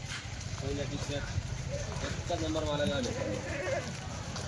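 Kathewadi goats on a livestock vehicle give several short bleats, close and fairly faint over low rumbling, with someone talking over them.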